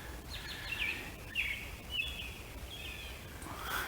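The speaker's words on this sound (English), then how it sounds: "there's actually an American robin up there singing" An American robin sings from up in the trees in short, faint, high whistled phrases repeated every second or so, heard from a distance over quiet outdoor ambience.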